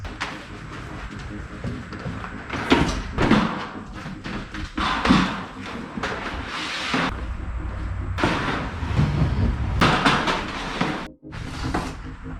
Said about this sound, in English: This is basically all of the bins, and we're gonna place them on here and see how it looks.